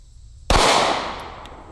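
A single sharp gunshot from a Smith & Wesson M&P Shield pistol fired outdoors at a target, loud and close, with a long ringing decay trailing after the crack.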